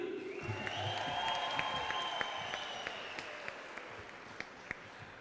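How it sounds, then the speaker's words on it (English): Graduation-ceremony applause at Regenesys Business School: a steady, fairly distant wash of clapping from the audience with a few sharper individual claps, fairly quiet, with faint tonal sounds above it. "we're looking for a serious applause for Veronese Faith Ali"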